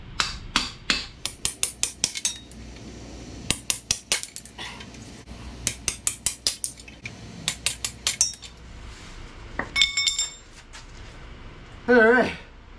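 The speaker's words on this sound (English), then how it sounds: "I'm gonna pop the rest of these lifters out of here" Metal valve lifters being popped out of a Ford 8BA V8 engine block during teardown make a string of sharp clinks and clatters, many rapid metallic knocks in bursts, fairly close, with a brief voice in between.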